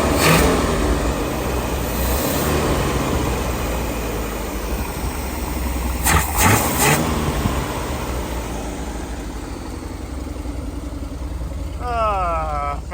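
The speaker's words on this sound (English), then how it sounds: "I pumped the gas twice and immediately tried to start it again, and it popped off" An old car engine cranks and runs with a steady, loud rumble and a few bursts of revving, recorded close by with no talk over it.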